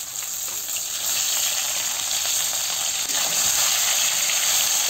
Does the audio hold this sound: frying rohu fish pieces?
yes